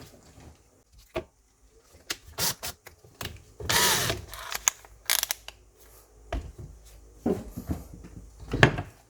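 A Makita DF333 cordless drill whirs in short bursts among clicks and handling knocks, with one longer run in the middle as it bites into wood.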